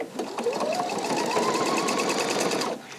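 A Pfaff sewing machine runs steadily while sewing ribbon stitches, a continuous close whirring hum with a fast rhythmic needle tap that stops abruptly near the end.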